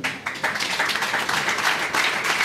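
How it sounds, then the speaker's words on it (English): Dense, steady applause from an audience at a graduation ceremony for students, a broad wash of many hands clapping at once that holds at an even, fairly loud level for the whole stretch. "So clap yourself."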